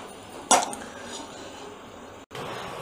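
A single sharp clink of dishes as freshly fried crispy mathri snacks are served, a brief loud transient over a quiet room hum, then near silence.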